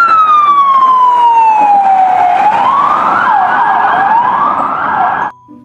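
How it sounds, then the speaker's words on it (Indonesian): A toy police car siren wails loud and close, a falling tone that turns into rising and falling sweeps before cutting off abruptly near the end, with no talk over it. "Ada mobil polisi."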